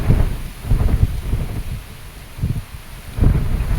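Strong gusty wind tearing through neem and other trees at a farmhouse, heard as loud rushing roars that swell and ease in waves with rustling leaves, no voices.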